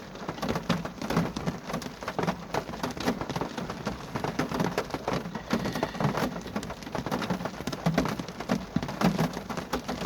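Steady rain pattering on surfaces at a graveyard, with a constant hiss and scattered drip sounds, continuous throughout and fairly close.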